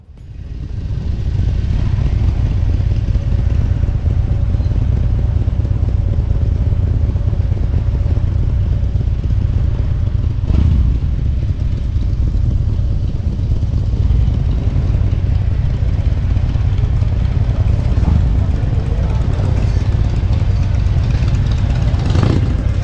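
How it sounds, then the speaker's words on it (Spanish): Many motorcycle engines idle and rumble together in a dense, steady low drone at the opening of a custom garage-style restaurant bar in Querétaro, loud and continuous throughout with crowd-like background texture. "Bastantitas motos."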